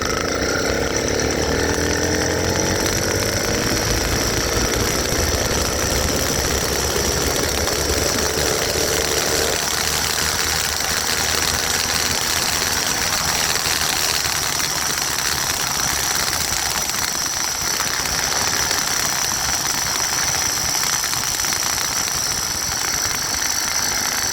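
A motorized bike engine runs steadily at close range, a loud, constant buzzing drone with a slight pitch drop early on, carrying through the whole stretch with no talk.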